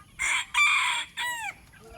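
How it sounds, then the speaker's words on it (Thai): Two or three short, loud chick calls close by from young laying-hen and black-chicken hybrid chicks, clucking and squawking in quick succession. "นี่จะเป็นไก่ไข่นะครับ แล้วก็นี่ไก่ดำตัวสีขาวไก่ดำนะครับ จะเป็นลูกไก่ไฮบริดนะครับผม"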